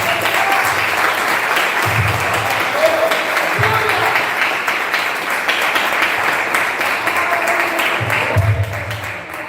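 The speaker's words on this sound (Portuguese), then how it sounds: "Agradeço a oportunidade, as palmas dava a Deus." A church youth-service congregation applauds at length, a loud, dense wash of many hands clapping that fills the room, with faint voices mixed in beneath it.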